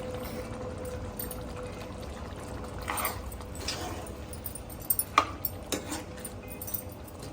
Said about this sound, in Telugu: ఫ్రెష్ క్రీము వేసుకోవాలి. 100 ml వేసుకోండి.